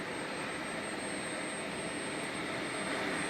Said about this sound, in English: The innovative device is made from a converted plane engine.